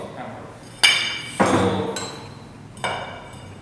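Standard Proctor test hammer dropping in free fall onto soil in a mold, three sharp metallic impacts spaced about a second apart, close and loud, with a brief spoken word.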